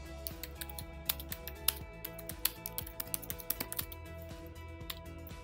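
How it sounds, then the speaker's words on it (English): Quick, light keystrokes on a computer keyboard clatter in a fairly steady run of clicks, faint and close, with no talking over them. "just go to Google and type in sign up for Salesforce Developer Edition org"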